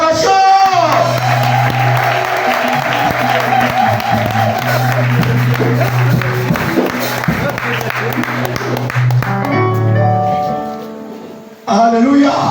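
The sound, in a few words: audience applause and cheering for a speaker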